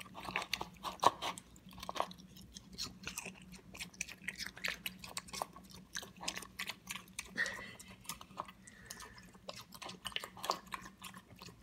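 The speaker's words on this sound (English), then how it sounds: "Can you chew with your mouth closed," A mini pig chews watermelon up close with wet, smacking crunches in a steady irregular stream, quiet overall, while people talk softly nearby.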